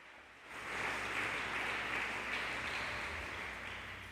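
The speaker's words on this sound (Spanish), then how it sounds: "Dale un aplauso al Rey de Reyes y Señor de Señores." A church congregation applauds together during a Spanish-language worship service, a broad steady wash of clapping that rises quickly and holds, fairly distant with a roomy echo.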